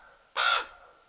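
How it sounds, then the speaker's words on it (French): One crow gives a single harsh caw that rings out clearly against a quiet background with a faint steady hum. "vous voyez au loin une nuée de corbeaux qui tournoient dans le ciel"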